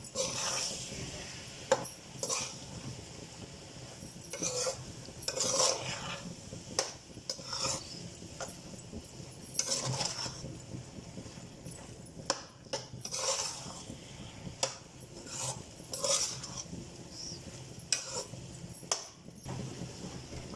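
Gajar halwa with carrots and almonds stirred in a pan, repeated scraping and clinking of a metal spoon against the pan in irregular strokes, with occasional speech over it.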